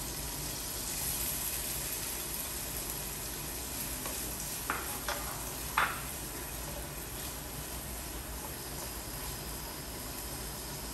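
White onion sizzling in butter in a hot pan, a steady loud frying hiss throughout with a few brief stirring scrapes in the middle.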